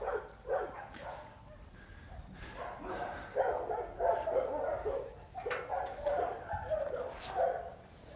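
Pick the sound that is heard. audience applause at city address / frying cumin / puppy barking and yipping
puppy barking and yipping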